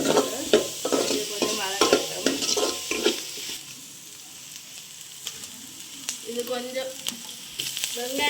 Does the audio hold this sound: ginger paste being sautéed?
yes